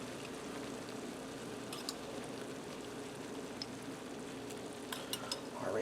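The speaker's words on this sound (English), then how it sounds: "I'm going to add in some garlic." Minced garlic sizzles and fries in a pan for Mediterranean shrimp pasta, a steady close crackling hiss with a few sharper pops and no talk.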